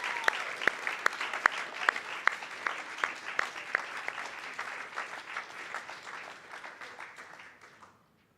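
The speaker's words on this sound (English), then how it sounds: "One more round of applause for Laird and Sarah, Rajiv and MAIREAD." Applause from a modest crowd, with several sharp distinct claps standing out, fading away over several seconds.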